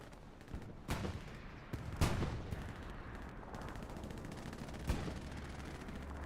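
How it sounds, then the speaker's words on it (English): In the Hell Let Loose video game, gunfire and explosions from a bombing run boom and crack over a dense, rumbling battlefield din, with several sharp blasts standing out. "Bombing run also coming in."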